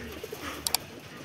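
Jalali pigeons on a rooftop loft give two soft, low coos close by, followed by a couple of sharp clicks over a quiet background.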